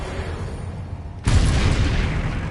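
Confringo spell explosion from Hogwarts Legacy: a sudden loud blast hits midway after a quiet stretch, then a sustained roaring, crackling rumble that carries on to the end.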